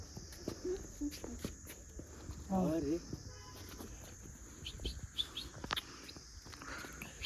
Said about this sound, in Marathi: The birds here, they're amazing.